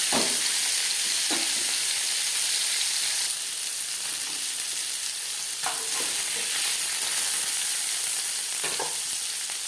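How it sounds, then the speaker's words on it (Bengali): Fish for a fish curry fries in a crowded pan, giving a loud, continuous hissing sizzle close by, with a few brief clinks and stirs and no talking. "একসাথে আমি অনেকটাই মাছ দিয়ে ফেলেছি, দুবারে ভাজলেই ভালো হতো"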